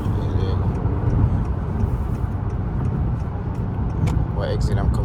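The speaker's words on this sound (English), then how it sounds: "Car moving, bro." A car drives through New York City traffic, its steady low road and engine rumble running continuously under loud talking from inside the vehicle, with a brief higher whine near the end.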